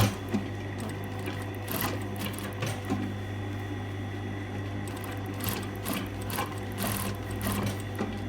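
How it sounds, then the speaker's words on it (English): A sewing machine stitches close to a seam line for a jetted pocket, running at a steady, even pace with a constant low motor hum and quiet needle clatter throughout. "I'm stitching close to that seam line, but just on the inside of it"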